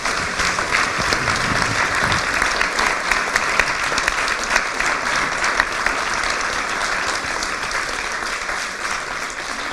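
Sustained applause from a seated audience in a hall after speakers finish, many hands clapping in a steady, dense wash for nearly ten seconds, fairly loud and even, tapering slightly at the end.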